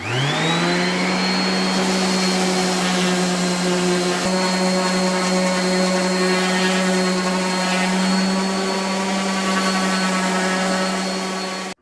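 A DeWalt DWE 6423 random orbital sander with a Temu disc spins up quickly and then whines at a steady high pitch, loud and close, running without pause until it cuts off.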